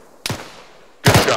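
Arma 3 video game gunfire rings out as two sharp reports about a second apart, each loud and close, followed by a short fading tail.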